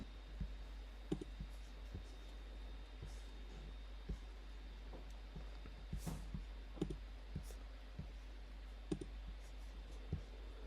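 Soft, sparse computer mouse clicks and light keyboard taps while entering program information into a web form, faint and irregular over a low steady hum.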